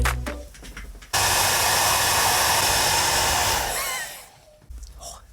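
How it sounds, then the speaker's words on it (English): A hair dryer switches on and blows with a loud, steady whoosh for about three seconds, then fades out. Some faint rustling and handling noises come before and after it. "they're probably using a bit of a stronger hairdryer than what I've got"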